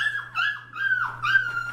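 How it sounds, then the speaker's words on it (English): A Shepadoodle puppy whimpers close by in a series of high, wavering whines that rise and fall in short repeated bursts, alone with no talk. "Beautiful puppies."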